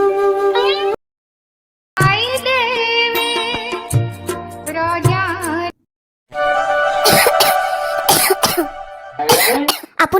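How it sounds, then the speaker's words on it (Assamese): An older woman in an Assamese cartoon gives a string of harsh, strained coughs and throat-clearing fits in separate loud bursts, with short silent gaps between them. "আপোনাৰ ইমান কাহে ধৰিছে যদি ভিতৰলৈ যাওক।"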